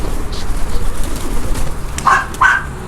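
Pigeons coo softly a few times over a steady outdoor hum, the low calls close by and repeating in short bursts.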